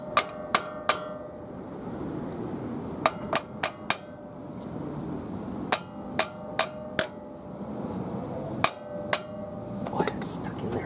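Hammer blows on a stuck front brake rotor of a 1985-1994 Ford F150 4x4, sharp metallic strikes in quick clusters of three to four, loud and close over quiet shop noise.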